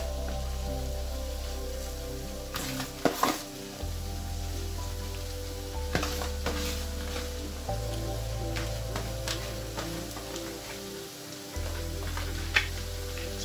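Vegetables added to fish sauce in a pot crackle with a soft, steady sizzle like light rain, close and continuous, with a few sharper pops and clatters against a low background hum.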